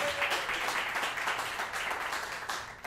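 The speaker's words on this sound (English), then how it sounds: "Give yourselves a round of applause." Steady audience applause fills a comedy improv show, a dense even wash of many hands clapping with no pause across the clip.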